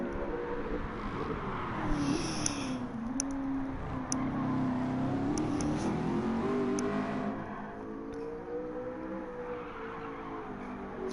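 A race car engine in a racing video game, likely a Group 3 class car, revs with a rising and falling tone under a sustained drone, then eases off to a lower, quieter hum near the end.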